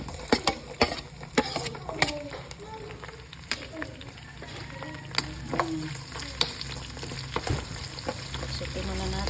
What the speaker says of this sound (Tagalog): ilalagay na natin yung ating sibuyas at saka yung ating bawang